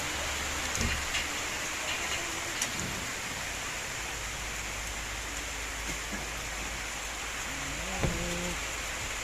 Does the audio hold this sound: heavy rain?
yes